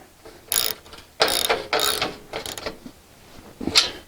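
A ratchet tightens down a solar panel mounting rail with several bursts of sharp, close clicking strokes, separated by brief pauses.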